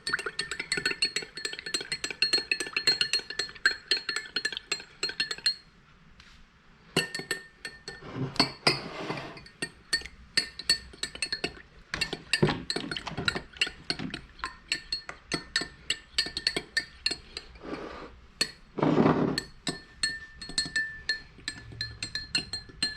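A spoon stirs runny chocolate ice cream topping into milk in a glass, giving a steady run of light metallic clinks and taps against the glass, close and fairly loud, with brief pauses.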